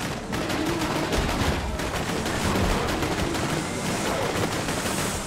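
Gunfire in Borderlands 2 rattles in rapid, dense bursts, a continuous loud stream of shots with sharp repeated cracks throughout and no talk over it.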